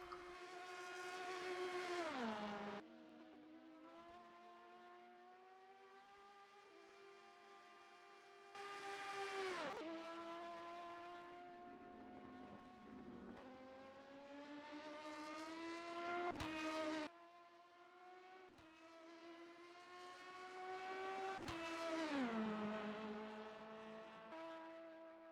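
Race car engines scream down the long Mulsanne straight in a Le Mans endurance racing game, loud rising and falling high-revving passes with sharp gear changes, several cars sweeping by one after another with no voices.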